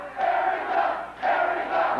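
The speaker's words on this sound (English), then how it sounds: "The crowd chanting, Erica." A wrestling arena crowd chants "Erica" in rhythmic two-beat bursts, loud and massed, repeating about twice with a brief dip between them.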